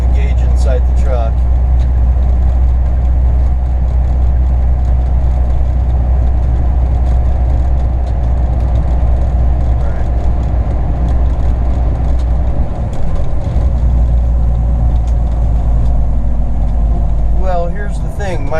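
A truck engine idles close by with a steady, loud low rumble that runs throughout, while a person talks over it now and then.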